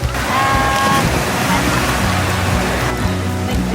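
Water rushes steadily at Ka Ang waterfall in Nakhon Nayok, Thailand, a loud, continuous broadband roar filling the whole stretch, with people talking faintly over it.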